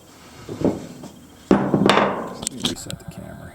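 An offset flywheel key being set into the flywheel of an Echo CS-590 Timberwolf chainsaw, with a couple of sharp close metallic knocks and rattles, the louder strike followed by scraping handling noise.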